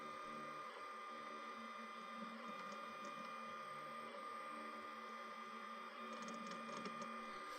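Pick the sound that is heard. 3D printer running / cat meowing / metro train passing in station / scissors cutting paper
3D printer running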